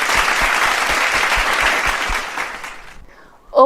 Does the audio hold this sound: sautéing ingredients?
no